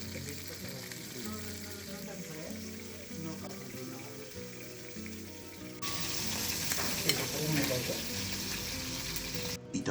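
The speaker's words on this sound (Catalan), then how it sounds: "Fregim els escamarlans." Fresh-caught langoustines fry in a pan with a steady sizzle that grows louder and more crackling midway through, with some clinking nearby.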